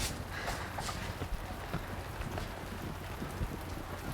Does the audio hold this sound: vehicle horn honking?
no